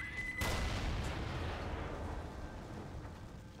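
In a video game, a grenade detonates with a sudden loud blast that rolls into a long, rumbling decay, heard alone after a short quiet lead-in.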